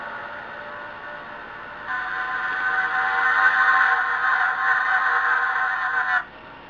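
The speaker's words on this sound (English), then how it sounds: "If you want to hear the sound of 42 cars coming across this corner right here" A pack of 42 race cars sweeping through a corner in NASCAR Racing 2003 with a Formula One mod, a dense, high-pitched engine whine that swells louder as the field passes and then cuts off sharply.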